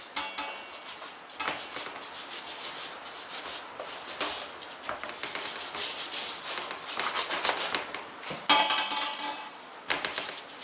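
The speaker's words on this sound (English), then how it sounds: "Now I'm finna come back and I'm gonna rub it in." Hands rub seasoning into raw pork ribs with continuous wet, scratchy rubbing and slapping, close and fairly loud, with a few sharper knocks and no speech.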